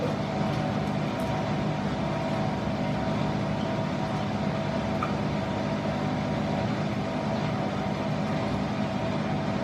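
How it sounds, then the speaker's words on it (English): A Bosch Exxcel 1400 washing machine running an unbalanced wool wash, giving a steady, dense mechanical rumble with constant low-end hum and no distinct knocks, continuous and close throughout. "She's sort of been well behaved, this wool wash, but it has got a bit unbalanced."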